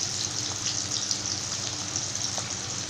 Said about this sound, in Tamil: வெங்காயம் வந்து நல்லா பொரிஞ்சு நல்லா ப்ரௌன் கலரில் வரணும்